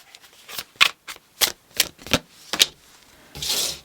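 A deck of tarot cards being shuffled gives a run of quick, close snapping riffles in irregular bursts, ending with a brief soft rustle, and no talk heard.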